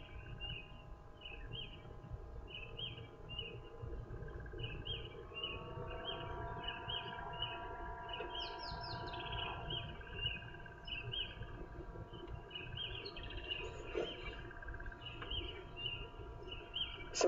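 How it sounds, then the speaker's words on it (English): Red-billed oxpeckers call in repeated short chirps and twitters, fairly faint over a steady background hum, with a few brighter trills toward the middle. "Such pretty birds, these red-billed oxpeckers."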